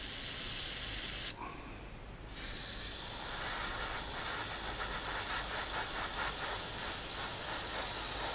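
Aerosol gloss coat hisses steadily onto a 1/48 Tamiya de Havilland Mosquito plastic model kit, a loud continuous spray with one brief pause near the start before it resumes.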